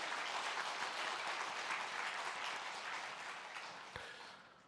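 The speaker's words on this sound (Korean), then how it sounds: "박수로 격려하도록 하겠습니다" A Sunday morning church congregation gives a steady round of applause for the organist, accompanists and choir, a soft, even wash of clapping that slowly fades out.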